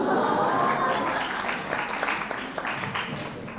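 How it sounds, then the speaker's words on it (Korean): An audience at an education forum talk concert breaks into applause, a dense burst of clapping that fades and thins out over a few seconds. "박수 한번 부탁드리겠습니다"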